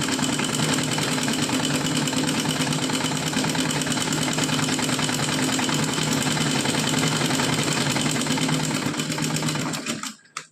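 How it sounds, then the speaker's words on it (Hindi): A sewing machine runs steadily, stitching a straight seam along a 3-inch-wide fabric strip for a small deity dress, with a loud continuous mechanical whir and hum that stops abruptly at the end. "हमको इस पर सीधी सिलाई लगानी है।"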